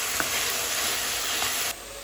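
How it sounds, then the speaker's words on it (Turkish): Onions and meat sizzle steadily in a hot pan, an even frying hiss with a couple of faint clinks, quieting slightly near the end. "Şimdi soğanı ilave ediyorum. Soğanla birlikte kavurmaya devam."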